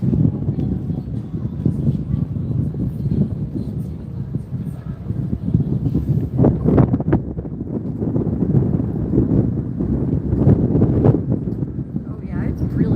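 Gusty wind buffets the microphone near the waterfront in downtown Boston by the old Custom House, a steady low roar with stronger gusts midway and toward the end, loud and continuous.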